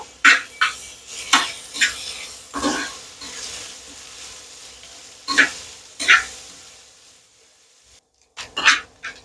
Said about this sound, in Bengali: দিয়ে সবগুলোকে একসাথে নেড়ে চেড়ে ভালো করে ভেজে নেব